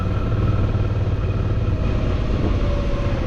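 Motorcycle engine rumbles steadily while riding Needles Highway in the Black Hills, a loud continuous low drone with wind, no pauses or talk.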